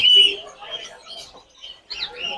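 Caged birds at the Mirpur 1 bird market in Dhaka, including doves, give faint scattered chirps and calls amid the quiet market murmur, with a few brief, thin calls near the start and end.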